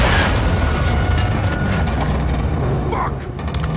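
An RPG rocket blast in the Call of Duty: Modern Warfare 2 campaign, a loud, dense rumbling boom that fills the whole moment amid gunfire clatter and battlefield noise, with voices shouting over it.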